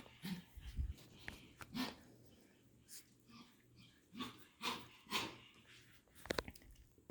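Five-week-old Parson Russell Terrier puppies make scattered soft whimpers, snuffles and small chewing noises close by, brief bursts separated by quiet gaps.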